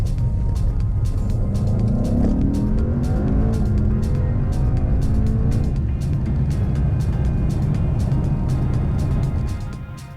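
A 2019 Mercedes E63S sprinting hard from 30 to 70 mph, its engine roaring loud and steady from the cabin with rising rev pitch, gear changes, and a brief dip before easing off at the end.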